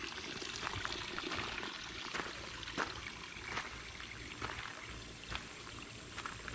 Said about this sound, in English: The runoff stream is running strong today.